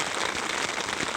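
Steady rain pours down without a break, a dense, even hiss of drops striking surfaces all around, with no voices and no other sounds.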